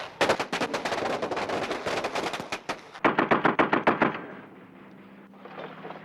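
Rockets and firecrackers set off at a festival to scare away evil spirits in Vietnam: rapid crackling bursts of sharp loud pops in dense strings, a second volley of bangs, then a fading hiss and distant rumble.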